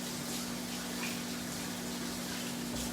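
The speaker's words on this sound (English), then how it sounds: "Wash my hands." A faucet runs at a steady, even flow while hands are washed at a kitchen sink, with a faint constant hum underneath and no talking.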